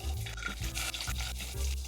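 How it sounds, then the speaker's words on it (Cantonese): Gnocchi fry in a little hot oil in a pan, giving a soft, close sizzle with faint scraping and stirring noises at a low, steady level. "然後就慢慢將佢哋煎到表面變成金黃色。"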